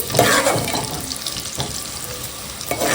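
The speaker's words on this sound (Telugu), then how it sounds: "ఉల్లిపాయ ముక్కలు దోరగా వేగేంత వరకు ఇలా ఉంచి కలుపుతూ ఉండాలి" Chopped onion pieces frying in hot oil in a pan while being stirred, a steady close sizzle with occasional scraping and clinking from the stirring utensil, no talking.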